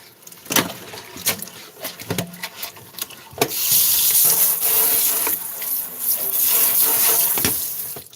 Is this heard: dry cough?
no